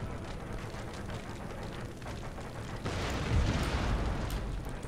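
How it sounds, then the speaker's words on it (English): Mortar battery shells burst in an Empire: Total War battle, a rumbling wash of explosions that swells louder midway and stays heavy, like a distant volley landing. "just going to miss getting hit by this mortar batteries thing"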